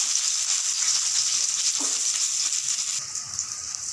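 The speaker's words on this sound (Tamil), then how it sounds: "வானலில் கடுகு போடும் வெங்காயம் போடுவோம்" Steady loud sizzle of mustard seeds and onions frying in hot oil, with a brief crackle partway through and the hiss easing slightly near the end.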